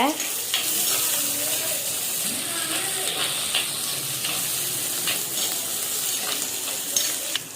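Onions fry in hot oil for a Catla fish curry, giving a loud, constant sizzle and hiss with spatula stirring and occasional scrapes against the pan, close up and with no voices.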